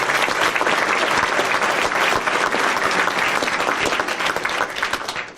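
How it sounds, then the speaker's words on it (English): Sustained applause from an audience at a United Way Community Builders reception, a dense steady wash of many hands clapping that stays loud throughout and tapers slightly at the end. "Everyone clap for them."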